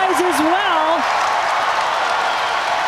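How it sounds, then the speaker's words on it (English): Crowd noise at an NC State women's basketball game against Duke, a steady loud roar of cheering and applause filling the arena, with a commentator talking over it. "Crowd starting to make some noise as well"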